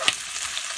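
Garlic and onions frying together in a pan, a brief soft sizzle with a small stir scrape near the start, close and quiet without talk.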